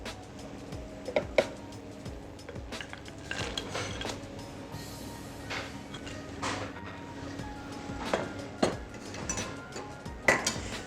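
A spoon stirs cottage cheese vareniki in a pot of boiling water and milk with butter, giving scattered light clinks and scrapes against the pot over a soft bubbling background.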